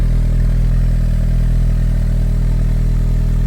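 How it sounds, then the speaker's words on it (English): A Saab engine with a turbo runs steadily at idle, a loud, close, continuous low rumble with a clattering edge and no talk. "You can hear the engine, sounds really good"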